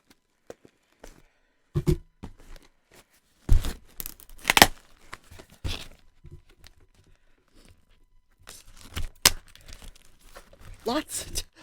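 A parcel heavily wrapped in tape is pulled and torn open in bursts of crinkling, ripping and rustling, with quiet pauses between, and a person talks intermittently.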